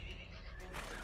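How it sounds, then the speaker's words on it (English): A horse gives a short whinny, brief and fairly close, with a faint bit of background noise around it. "The horse makes horse noises."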